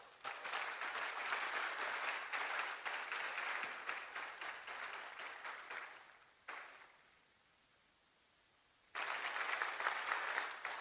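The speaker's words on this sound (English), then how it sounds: "Can we please have a round of applause for them?" Sustained audience applause at a large outdoor gathering, dense clapping from many hands that fades out, drops to near silence, then bursts back at full strength.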